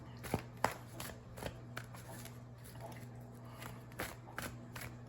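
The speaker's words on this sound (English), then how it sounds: "Right now, I'm shuffling to get you a Keepers of the Light Oracle card." Oracle cards are shuffled close by in a quiet room, giving soft papery riffles and taps that come in irregular bursts over a low hum, with no talk.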